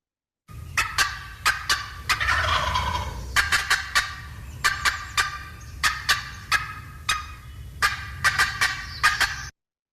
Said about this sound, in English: this is usually a vocalization that you can tell it sounds a little bit like a cluck